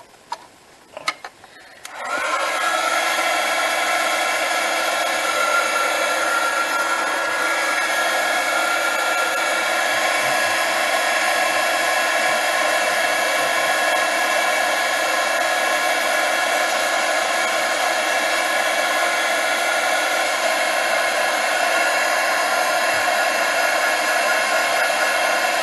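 A hair dryer blows steadily to dry a craft piece, a loud continuous whoosh that starts after a couple of seconds of small handling noises and runs unbroken to the end.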